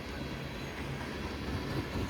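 A Canadian Pacific freight train hauling loaded ethanol tank cars rolls past with a steady, fairly faint rumble and low rattle, with no talking.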